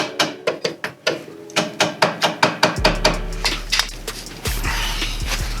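Hammer blows driving Hepco & Becker crash bar parts into place on a 2021 Ducati Scrambler Desert Sled, a steady run of sharp metallic strikes close by, with a low mechanical rumble underneath that grows louder toward the end.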